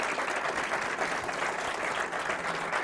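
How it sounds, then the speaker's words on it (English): Conference audience at a weather and climate summit breaks into sustained applause, a steady wash of many hands clapping from across the hall, even in loudness throughout. "Give them a huge round of applause."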